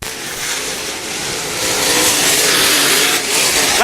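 Race cars roaring around a dirt track during a three-car battle for the lead, a loud continuous engine roar that swells louder partway through as the pack passes close.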